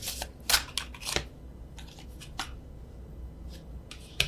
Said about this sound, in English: can't shuffle. So let me do the overhand.